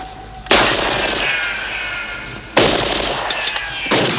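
Bursts of automatic gunfire in a film shootout ring out loud and close, three separate volleys sounding one after another with hardly any pause between them.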